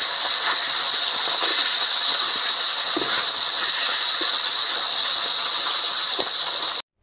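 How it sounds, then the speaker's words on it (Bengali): Two fish heads fry in hot oil in a clay oven pan, giving a loud, steady sizzle that runs unbroken for about seven seconds and then cuts off abruptly. "তেলটাকে ভালো মতন গরম করে তাতে মাছের মাথা দুটোকে দিয়ে দিতে হবে এবং মাছের মাথা দুটোকে ভালো করে ভাজতে হবে"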